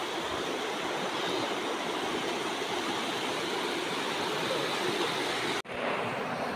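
A rain-swollen, muddy river near Sunderkhal by Jim Corbett rushes in a loud, continuous broadband roar that holds steady, broken only by a momentary dropout near the end.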